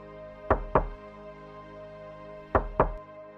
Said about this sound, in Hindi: घर का दरवाजा खटखटाती है